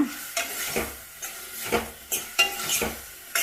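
Onion and radish fry in a pan for sambar while a spoon stirs them in regular scraping strokes over a soft, steady sizzle, close by with no talk.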